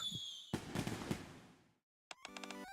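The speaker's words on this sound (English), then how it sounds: "Wow, fireworks are going off outside." Fireworks go off in the Nikke video game: a loud burst and crackle fades over a second, then after a brief silence a rapid series of sharp pops and bangs follows.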